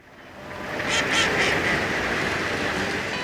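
Wild ducks wintering on a Canadian cattle ranch, a close chorus of several loud quacks around the middle, set against a continuous wash of flock noise and ambient sound.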